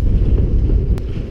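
Wind buffets the microphone during kayak fishing on open water, a loud, steady low roar with a couple of faint clicks.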